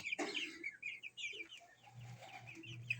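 Rhode Island White crossed with Leghorn chickens in a backyard flock, with faint scattered clucks and soft cackling calls, fairly distant and quiet against a low background hum.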